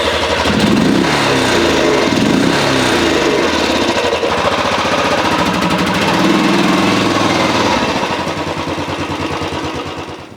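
A Royal Enfield Bullet motorcycle engine runs loud and close, a steady thumping idle with a rhythmic pulsing beat that eases slightly in the last seconds.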